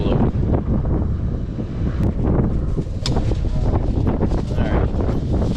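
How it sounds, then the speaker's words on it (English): Steady wind blows outdoors beside a 2021 Ford F-150 on a road trip, a constant broadband rush with gusty buffeting against the microphone throughout, continuous and fairly loud. "Wind starting to blow."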